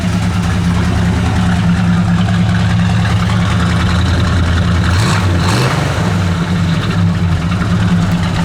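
A 1968 Dodge Charger V8 engine with an older exhaust idles steadily with a deep, burbling exhaust rumble, a brief surge midway, then settles back into the same loud, even idle.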